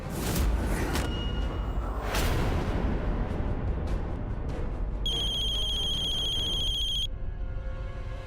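A telephone rings with a steady electronic two-second tone in an Indian drama scene, cutting through dense, busy background music and whooshing effects.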